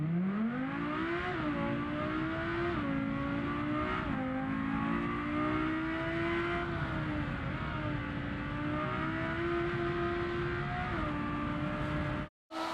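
Race car engine in the BeamNG racing game at the Pikes Peak starting line; a loud, continuous engine drone that rises and falls through several revs and gear shifts, with no talk, ending abruptly.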